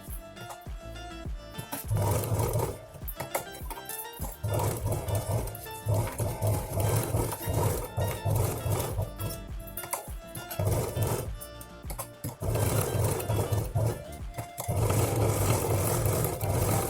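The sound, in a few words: sewing machine stitching a ladies handbag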